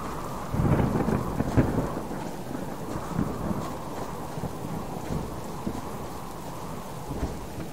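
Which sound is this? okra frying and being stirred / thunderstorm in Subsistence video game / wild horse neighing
thunderstorm in Subsistence video game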